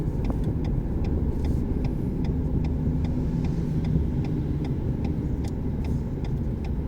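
A car gently accelerating during a driving lesson in France, with a steady mid-pitched engine drone and a faint regular ticking over it, and no voices.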